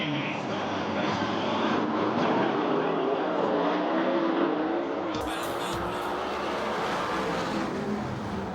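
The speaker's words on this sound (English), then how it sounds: "Getting ready. Heat race number 2. 10 laps." USAC/CRA sprint cars roar around the dirt oval at Perris Auto Speedway during a 10-lap heat race, a steady, dense engine drone heard from a distance that fills the whole stretch.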